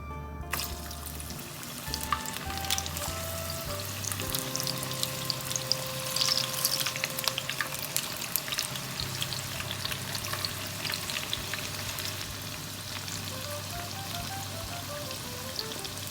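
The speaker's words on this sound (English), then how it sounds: "you can see oil is very hot. Then I'm going to start frying." Steady crackling and sizzling of vegetable pakoras frying in hot oil, continuous and close, with occasional clinks and stirring sounds.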